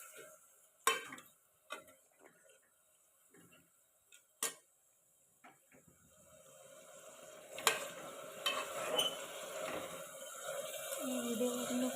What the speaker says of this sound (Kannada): ಸ್ವಲ್ಪ ಫ್ರೈ ಮಾಡಿ ಅದನ್ನು ಮಿಕ್ಸ್ ಮಾಡ್ಕೊಳ್ಳಿ.